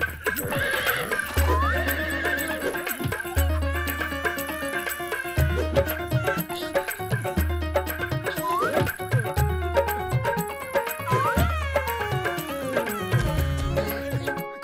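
A cartoon horse whinnies loudly several times over a repeating clip-clop gallop rhythm and bouncy music, with no talking.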